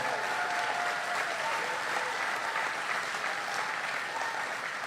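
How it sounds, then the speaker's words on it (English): Crowd applause at a political rally for Vice President JD Vance in Peachtree City, a continuous wash of clapping from a large audience, steady and moderately distant throughout. "Let's give Secretary Loeffler a big round of applause, too, as well."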